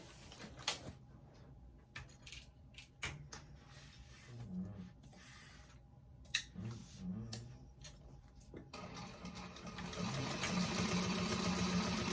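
A sewing machine stitches a bag seam in short, uneven bursts with clicks and handling noises between them. Near the end it breaks into a longer, steady run of stitching, all close by.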